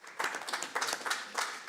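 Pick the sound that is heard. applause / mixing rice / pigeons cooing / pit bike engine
applause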